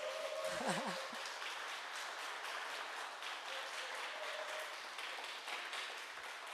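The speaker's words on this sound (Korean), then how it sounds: "여러분 박수 한번 부탁드립니다" Applause from the audience at the 2020 Lee Hae-rang Theatre Award ceremony, a soft, steady spread of many hands clapping heard from a distance, with a brief tonal sound near the start and no voices over it.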